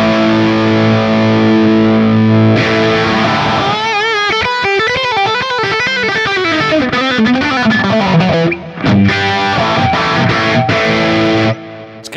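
Electric guitar with Seymour Duncan JB and 59 pickups played through a Fractal FM3 running its 1959 SLP amp model, giving a crunchy distorted brown tone; sustained chords give way to fast wah-swept lead lines, loud and alone.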